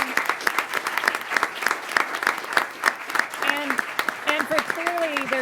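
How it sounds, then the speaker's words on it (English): Audience applause at a school board meeting for a student music quartet from Douglas Anderson, a steady burst of clapping with a voice speaking over it toward the end. "We have one more round of applause for this amazing quartet from Douglas Anderson."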